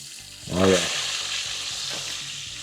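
Bacon sizzling in a pan while cooking for a BLT, a steady frying hiss that swells briefly near the start before settling into a continuous crackle.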